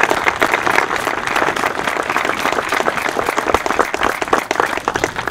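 A crowd at a community athletic field grand opening claps for sponsors, a dense, steady round of applause heard close throughout.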